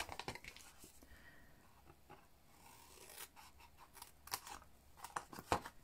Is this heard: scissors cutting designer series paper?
yes